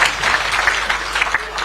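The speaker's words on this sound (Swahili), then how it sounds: "Makofi kwa former MP." A crowd at an outdoor political rally in Nakuru applauds a former MP, a brief burst of dense, steady clapping heard up close.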